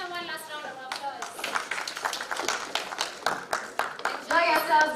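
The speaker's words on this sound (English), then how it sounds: "Give them one last round of applause." An audience at Nairobi Tech Week 2024 claps in a dense burst of applause, with voices and excited chatter mixed in as a speaker talks over it.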